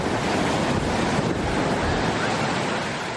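Sea waves surge and crash in a continuous, loud roar of surf, with wind buffeting the microphone throughout and no voices.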